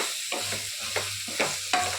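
Ground dry chilli and coriander paste fries in a pan, crackling and sizzling close up while being stirred in quick repeated scrapes, with no talking.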